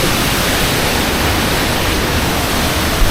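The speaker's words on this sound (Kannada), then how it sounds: "ಅದು ನೀರು ಬೀಳ್ತಿರೋ ಫೋರ್ಸು" Kumbaradi waterfall pours forcefully in a dense, unbroken roar of falling water, loud and close, filling the whole clip with steady hiss and rumble.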